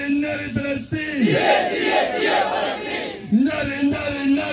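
A large crowd at a rally for Palestine and against Israel chants slogans in unison, loud and rhythmic, with voices rising and falling in repeated call-and-response bursts.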